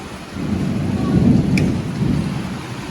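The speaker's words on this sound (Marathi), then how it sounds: "भयंकर पाऊस यायला" Steady heavy rain roars throughout, with low rumbling thunder rolling underneath; a continuous, dense downpour with no talking.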